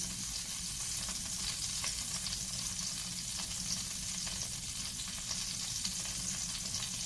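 Seasoned seafood, including scallops, fries and sears in a hot pan. A steady, dense sizzle continues throughout with faint crackles and no pauses.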